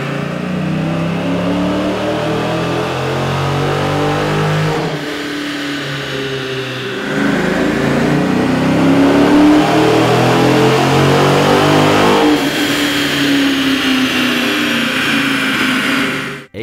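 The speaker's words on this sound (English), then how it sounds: "a comparison of the vehicle sound on the dyno with the stock OEM system versus AEM's air intake" 2009 Dodge Challenger with the 6.1-liter engine on a dyno, comparing the stock intake with an AEM cold air intake; a loud, sustained engine roar climbs through repeated revs and pulls, rising in pitch and intensity across several runs.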